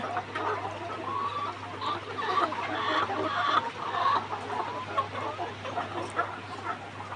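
Hens cluck and murmur in an egg-laying poultry coop, several birds calling in overlapping bursts at moderate distance over a low, steady hum.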